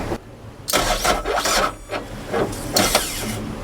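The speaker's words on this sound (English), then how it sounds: "the engine is cranking very slowly, as if the battery voltage was low" A boat's engine cranks slowly and laboriously on a transatlantic sailing yacht, as if the battery is low, sounding in several strained bursts with brief pauses between, close and fairly loud.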